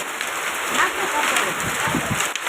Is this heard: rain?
yes